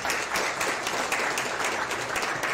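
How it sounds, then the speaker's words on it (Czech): An audience applauds after a conference presentation, a steady patter of many hands clapping at moderate volume from start to finish. "Tak poprosím o potlesk za prezentaci."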